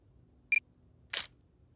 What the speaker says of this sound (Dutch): Ik zet even mijn camera aan.